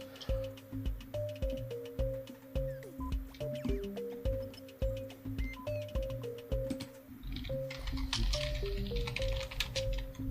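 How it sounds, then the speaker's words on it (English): Rapid, uneven keyboard typing clicks run throughout at moderate level over a steady tonal background. "I believe Silver is typing something, and I think it might be"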